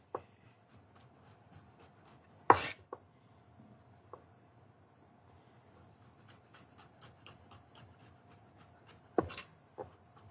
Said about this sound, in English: My garlic, I'm slicing very thin or chopping very thin here.